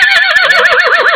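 A horse at Standing Rock gives a loud, close whinny lasting about a second, its wavering pitch rising and falling, with no voices over it.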